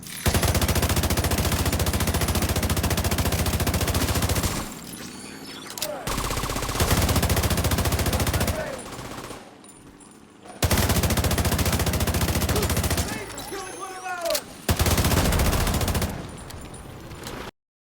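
Sustained automatic gunfire from a Striker and Eagle Bearer build in The Division 2 on Xbox, with long loud bursts broken by short pauses and a few brief quiet gaps between volleys.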